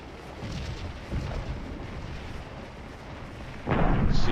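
Artillery fire booms in the Scourge of War game with low, muffled rumbling thuds rolling from a distance and a heavier blast near the end.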